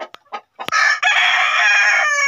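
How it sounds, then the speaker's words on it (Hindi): Chickens in their coop, with a few short clucks giving way to a loud, sustained rooster crow close to the microphone. "अभी जो है हम नीचे आए अपने मुर्गियों के पास"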